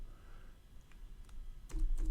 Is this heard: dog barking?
no